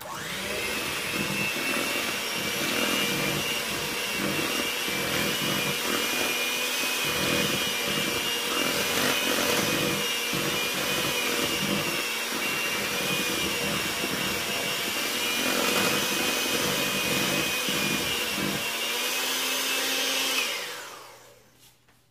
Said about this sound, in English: we're just going to mix this until they're blended in